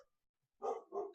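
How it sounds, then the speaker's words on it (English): A dog barks twice in quick succession, close and fairly loud, after a moment of near silence. "Sorry, dog. It's my guard dog."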